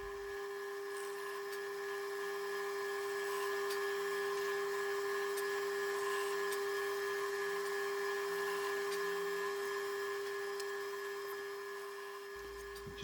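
Drilling marker holes in a bass guitar, a steady high-pitched whine from a small drill running continuously at close range, fairly quiet, with no talking.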